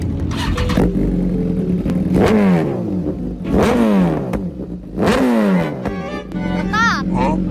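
A motorcycle fitted with an expensive aftermarket exhaust is revved hard three times, each throttle blip rising and falling sharply over a rumbling idle, close and loud.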